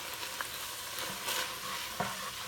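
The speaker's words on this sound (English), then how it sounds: "And we'll just give that a stir." Chili thickened with chili paste gets stirred in a pot over a soft steady sizzle, with a couple of brief scraping knocks from the spoon, close but fairly quiet.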